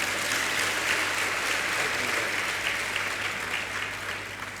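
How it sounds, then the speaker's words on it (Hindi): Audience at a spiritual discourse gathering applauds themselves, a steady dense wash of many hands clapping together, sustained and even for several seconds before tapering slightly. "एक बार अपने लिए ताली बजा लीजिए"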